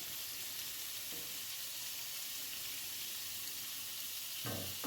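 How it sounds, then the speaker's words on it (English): Shrimp sizzle steadily in a pan on low heat, a constant close hiss with a couple of soft clinks of handling. "Okay, so I flipped the shrimp over."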